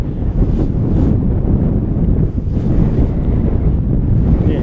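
Strong spring wind buffeting the microphone beside still water while fishing for zander, a loud, steady roaring rush with gusty swells and no talk.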